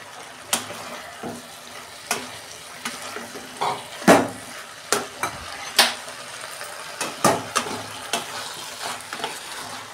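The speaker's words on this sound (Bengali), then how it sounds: "ঢ্যাঁড়সটা দিয়ে দিচ্ছি।" Okra tossed into hot spiced oil gives a soft sizzle under a string of sharp, irregular clinks and scrapes from stirring, close by and without talk.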